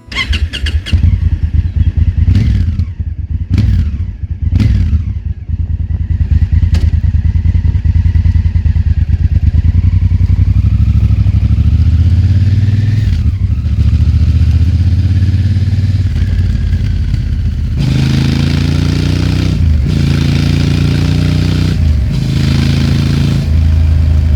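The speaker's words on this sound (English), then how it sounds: "The Akrapovic end can, I'll show you how it sounds like." A motorcycle with an Akrapovic aftermarket end can exhaust revs repeatedly, sharp throttle blips early on, then sustained deep roaring idle and rising revs, close and loud throughout.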